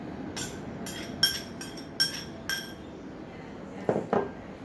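Pomelo salad with pounded sauce being tossed together, giving several sharp clinks of a utensil against a dish at an irregular pace, followed by a couple of duller knocks, close and moderately loud with no talking.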